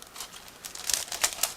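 Plastic bag crinkling as it is handled while unpacking sprues from an Eduard 1/72 Spitfire HF Mk.VIII model kit; close, intermittent rustling bursts that grow louder toward the end, with no speech.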